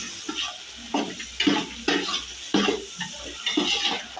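Onions and green chillies fry in a pan while a spoon stirs them, with soft sizzling under repeated scraping strokes and light clinks against the pan at a steady rhythm, close and moderately quiet.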